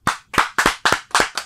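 Half a dozen sharp, quick hand claps ring out in a brisk, even rhythm, close and loud, at a live radio studio session on Radius 100FM.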